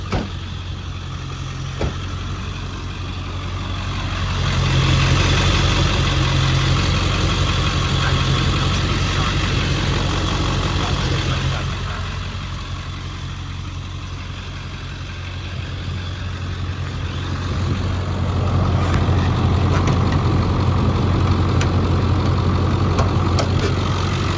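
A 1999 Ford F-250's 7.3 liter Powerstroke V8 diesel idles with a steady, close, rumbling clatter that swells louder for a stretch, eases off, then rises again.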